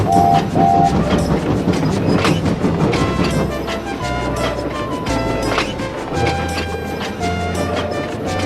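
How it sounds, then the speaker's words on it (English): An animated freight train rumbles along steadily with a low mechanical drone and rhythmic clatter, amid music and a busy, layered background. "Duck got Liam's freight train and he went off down the line."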